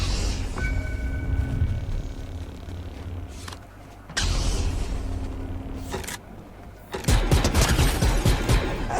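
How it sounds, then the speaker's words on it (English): A laser gun in Fortnite fires non-stop in rapid electronic bursts, loud and close, with brief pauses before a dense, rattling volley at the end. "Basically, you can shoot non-stop"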